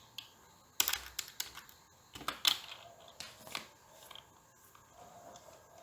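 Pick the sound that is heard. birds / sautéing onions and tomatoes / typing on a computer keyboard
typing on a computer keyboard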